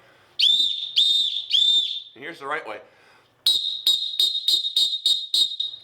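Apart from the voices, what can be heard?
referee whistle blasts, Valkeen whistle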